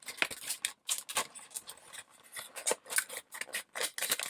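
Scissors snip and crunch through diecast model car packaging in quick, irregular cuts, close and fairly quiet, with rustling between the snips.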